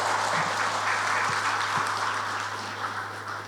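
A crowd at a PDI Perjuangan political rally in Brebes, Central Java, claps steadily in a dense, even wash that holds across the moment and slowly fades, with a low electrical hum underneath.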